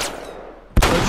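A single loud shotgun blast fires in the video game The Last of Us, a sharp burst near the end after a quieter stretch of game ambience.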